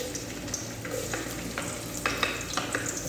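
Garlic sautéing in a pan, a continuous close sizzle broken by repeated scraping strokes of a utensil stirring, several sharper scrapes near the end, with no voices.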